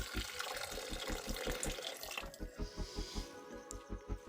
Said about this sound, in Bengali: তার মধ্যে জল দিয়ে ঝোল বানিয়ে নিতে হবে